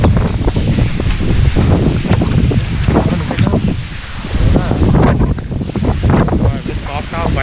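Strong gusting wind during Cyclone Tauktae in Mumbai, loud, continuous roaring and buffeting against the microphone with surging and easing gusts; a voice is faintly present under the wind noise.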